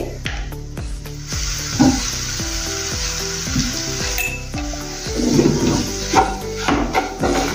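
Cumin powder, coriander powder, salt and vegetables for turai aloo sabji fry in a pan, a loud, close sizzle with repeated metal spoon scrapes and clinks as the mix is stirred.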